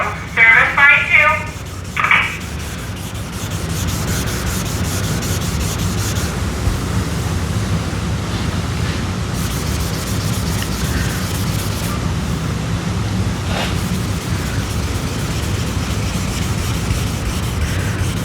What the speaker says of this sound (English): We're gonna take a hand block, 1500 grit, just flatten them out.